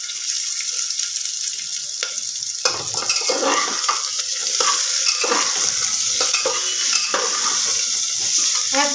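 Washed potato, cauliflower and papaya pieces hit a hot pan and sputter loudly, a dense hissing sizzle with scraping and clattering of utensil against pan, steady and close with no talk.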